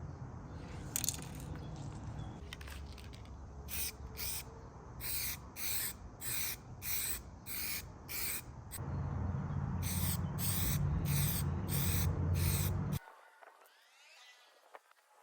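An aerosol spray can applies paint to brake calipers in a rhythmic series of short hissing bursts, near and fairly loud, with a longer steady spray burst before an abrupt stop into quiet.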